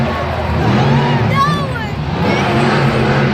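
Monster truck engines at a Monster Jam arena show in Santa Clara, Maximum Destruction and Son of a Digger competing, roaring steadily beneath loud announcer commentary and crowd noise, with a brief revving rise midway.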